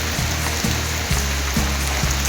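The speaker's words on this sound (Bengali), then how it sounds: "প্রচণ্ড জোরে বৃষ্টি নেমেছে" Heavy rain falling after Cyclone Yaas, with light wind, a steady dense wash of downpour under a low repeating hum.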